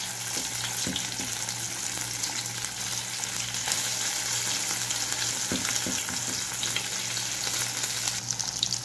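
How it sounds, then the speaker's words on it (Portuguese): Beef spleen frying in oil in a pan, a steady close sizzle and crackle running the whole time with a few brief stirring clinks. "Vou fritar no óleo e vou colocar papel toalha pra escorrer."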